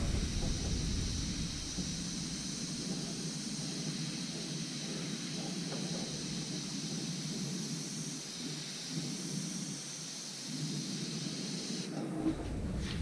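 Airbrush spraying paint across the edges of a custom painted panel, giving a steady, close airy hiss that runs almost without a break for about twelve seconds before cutting off.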